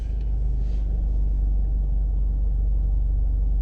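Scion tC exhaust through a Borla S-Type muffler rumbles steadily from inside the cabin while driving, a deep, even low drone with no talk.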